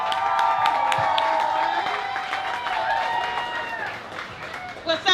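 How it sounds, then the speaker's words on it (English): An audience at a slam poetry show claps and cheers, with high whoops and shouting voices over a wash of applause that swells and then thins out near the end. "Y'all start clapping."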